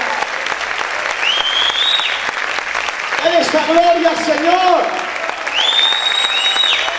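A congregation applauds during an evangelical church service, with steady, dense clapping running beneath a preacher's voice and swelling tonal sounds that come and go.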